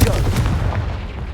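A Confringo spell blast in the video game Hogwarts Legacy: a loud, close explosive boom opens the moment and then rumbles and fades into a hissing tail.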